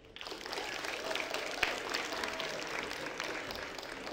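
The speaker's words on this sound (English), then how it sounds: "now let's have a warm round of applause for Paul Tang" Audience applause for speaker Paul Tang at a talk on taxing Big Tech and multinationals, steady clapping from a room full of listeners that starts abruptly and continues evenly, moderately quiet and somewhat distant.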